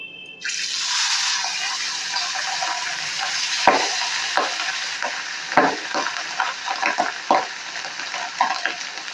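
Pabda fish fry in hot oil with a loud, continuous sizzle that starts suddenly, and several sharp bursts and crackles come as the pieces are moved or added.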